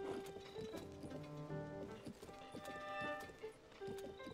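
Horse hooves clip-clop steadily in Zelda: Tears of the Kingdom, a quick, even trot up close over layered game music, with no talk.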